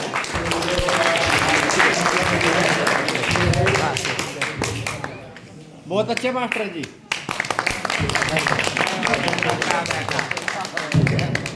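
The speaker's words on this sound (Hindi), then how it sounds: "सबके लिए एक बार जोरदार तालियां हो जाए" At a Guru Ravidas katha gathering at a police station hall, a crowd bursts into loud, sustained clapping for several seconds, fading out briefly and then surging again, with someone speaking over it.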